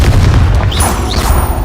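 Confringo blasting spell in Hogwarts Legacy: a loud, close, booming magical blast with a broad rumbling roar and a couple of brief whooshing streaks through it, alone without talk.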